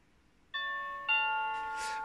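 A Friedland 433 MHz wireless doorbell chimes a clear two-note ding-dong, set off by a hacking device. Sustained bright tones ring out close and alone over a quiet background.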